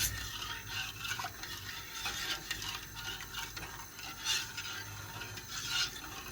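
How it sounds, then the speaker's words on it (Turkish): Sugar syrup for revani being stirred in a pot on the stove, a soft continuous scraping and swishing with faint repeated strokes and a light bubbling hiss, close and quiet. "Şöyle şerbetimi şimdi karıştırıyorum biraz."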